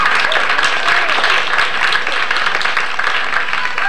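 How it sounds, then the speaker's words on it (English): A club audience applauds tenor saxophonist Don Hawkins with loud, sustained clapping, a few cheers mixed in, holding steady across the whole stretch. "How's about a nice round of applause for the inimitable Mr. Don Hawkins"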